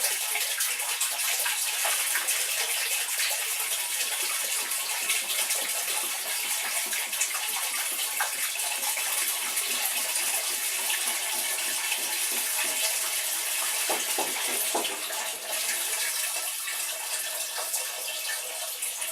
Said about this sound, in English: And I put 10 gallons of water in it.